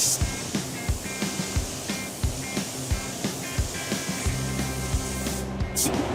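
Glacier Black C-Series Cerakote ceramic coating sprayed onto sandblasted parts, a continuous airy hiss of spray gun with a steady rhythmic pulsing thump from a compressor or pump beneath it.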